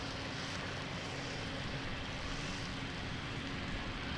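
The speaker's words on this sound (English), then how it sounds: "So, big boys taxiing here to holding position." Large airliners taxi at Lisbon Airport toward the holding position, a steady, continuous broadband jet-engine roar with no pauses and no talking.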